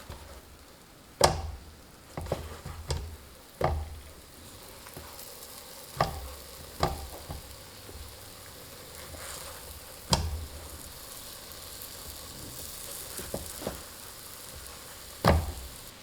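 Flaky pastry pan-frying over medium-low heat after being flipped, giving a soft, steady sizzle with scattered sharp clicks and taps from a utensil against the pan, close by and quiet.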